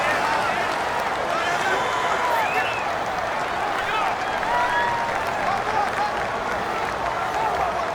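Dense, steady stadium crowd roar from a Madden NFL 19 football game between Green Bay and Chicago, a loud home-field din sustained throughout with faint cheering swells and speech-like chatter woven in.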